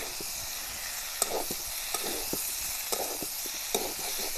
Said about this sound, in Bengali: এবার ভেজে রাখা ফুলকপি আর আলুগুলো দিয়ে দেব। ফুলকপি আলু দিয়ে মশলার সঙ্গে ভালো করে কষিয়ে নেব।